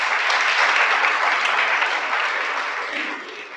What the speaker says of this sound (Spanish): Denle un aplauso al Creador.